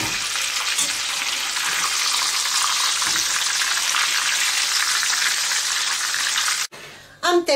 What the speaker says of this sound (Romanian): Am terminat de prăjit San Jacobo.